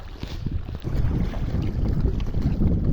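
Gusty wind buffets across open water near mountains in Al Baha, Saudi Arabia, a loud, steady rushing roar with microphone rumble and no voices.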